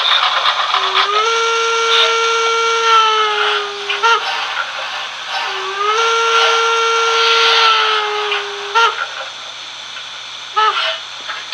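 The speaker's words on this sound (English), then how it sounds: "these engines have a lot of sound functions, as you can kind of hear in the background. Steam letting off and all different types of braking" A Märklin model steam locomotive's sound card plays loud, steady steam whistle blasts, two long sustained tones each ending abruptly, with bursts of hissing steam release between and around them.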